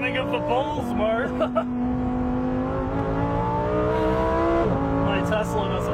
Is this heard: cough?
no